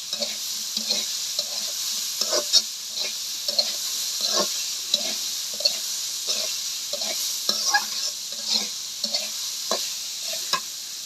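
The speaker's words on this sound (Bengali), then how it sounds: "এখন হচ্ছে নেড়ে চেড়ে ভালো করে মিশিয়ে নেব।" Stem vegetable fry with salt is stirred in a pan, a continuous sizzle punctuated by regular scraping strokes of a spatula, fairly close and with no talking.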